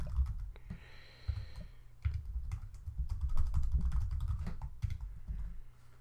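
Login credentials being typed on a computer keyboard into a WordPress admin page, a steady run of close, quiet key clicks with no talking.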